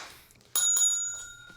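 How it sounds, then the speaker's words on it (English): A single bicycle bell rings twice in quick succession, bright and close, the second ding trailing off into a short ringing decay. "Ding the bell."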